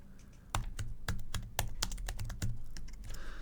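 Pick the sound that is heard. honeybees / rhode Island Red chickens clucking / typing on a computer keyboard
typing on a computer keyboard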